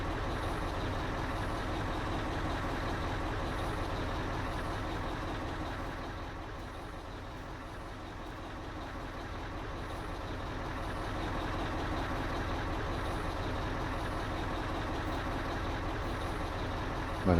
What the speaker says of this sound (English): I can hear a lorry or something just pulled up outside